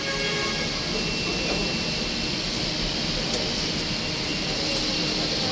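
MRT train at Ayala station in Manila, with a loud steady rumble of the car and a hiss of air conditioning filling the whole stretch, a few faint high squeals on top, and no voices.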